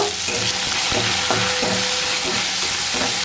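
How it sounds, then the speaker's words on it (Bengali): Chopped onion sizzles steadily in oil in a hot wok with bay leaf and cumin, with a few scraping stirs breaking through the constant loud frying hiss. "কড়াইয়ের মধ্যে দিয়ে দেব এবার তেজপাতা আর জিরে এবার দিয়ে দেব পেঁয়াজ কুচি"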